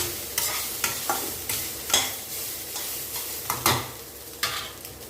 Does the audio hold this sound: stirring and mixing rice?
yes